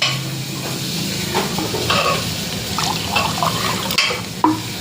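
Whole spices with cloves being tempered in hot oil for Gujarati khichdi, giving a steady close crackling sizzle with a few sharper pops and stirring scrapes, no voices over it.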